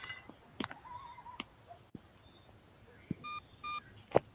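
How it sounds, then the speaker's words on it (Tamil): Short electronic beeps and bleeps chirp intermittently in a quiet game scene, some in quick pairs, alongside soft clicks and a brief animal-like whinny. "பீப் சவுண்ட் வேற அடிச்சுக்கிட்டே இருக்கியா?"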